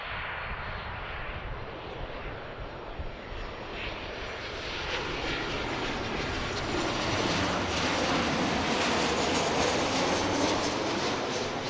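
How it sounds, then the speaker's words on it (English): Boeing 737-800 airliner taking off from Philadelphia airport, heard from a distance as a broad, steady jet engine roar that swells louder midway and holds strong to the end, with no talking. "Boeing 737. I think it was 800."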